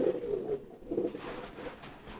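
A newly acquired pigeon coos in two low, throaty bursts with a pause between, fairly close, over faint background noise.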